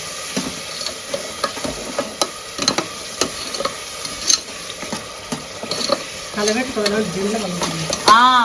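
A spoon stirs pulao with curd, tomato pieces and mint leaves in a pot, making repeated close scraping strokes over a faint sizzle, with a brief squeaky sound at the very end.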